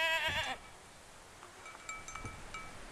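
A goat bleats once, loud and wavering, near the start in the video game Mundaun, followed by quiet ambient rustles and faint clicks.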